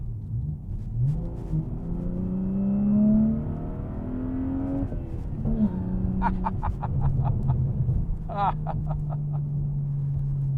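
A 2013 BMW 335i coupe accelerates hard, its engine note climbing through revs in smooth sweeps with a brief shift pause midway, followed by a few sharp ticking clicks near the end.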